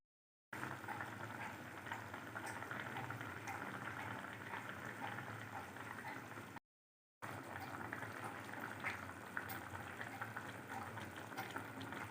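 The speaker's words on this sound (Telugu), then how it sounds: "హైలో మూత పెట్టుకుని బాయిల్ చేసుకోవాలి" Fish pieces simmering in tamarind water in a covered pot over high flame, a faint, steady bubbling and gurgling that runs continuously apart from one short break of silence.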